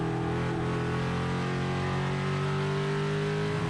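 Race cars circling the oval at Stafford weekly racing, a steady sustained engine drone with layered harmonic tones from several cars, loud and continuous throughout without breaks.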